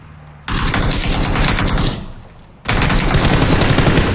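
Rapid automatic gunfire from the battle-royale video game PUBG comes in loud, sustained bursts with a short lull in the middle before another dense volley, heard alone without talk.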